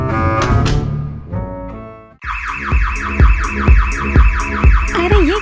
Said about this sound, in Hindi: ये चोरों का अलार्म है